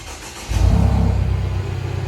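A Mercedes E 250 starts by remote: a quiet moment, then the engine catches and settles into a steady, close idle rumble.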